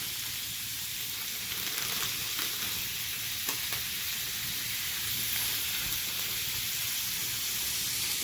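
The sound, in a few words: diced ham and sausage frying in a pan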